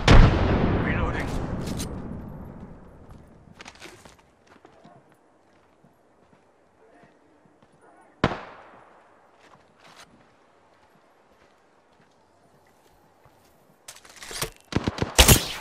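Video game gunfire, a loud close burst at the start that trails off, a single sharp report midway and a rapid clustered volley at the end, with quiet stretches between.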